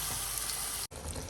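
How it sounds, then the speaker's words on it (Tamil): Water poured into a pan of home-cooked chicken gravy, a steady broadband rush with no talk, briefly interrupted by a cut before it continues. "கொஞ்சம் தண்ணி ஊற்றி கொதிக்க வைங்க"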